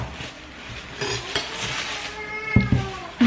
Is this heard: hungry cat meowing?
yes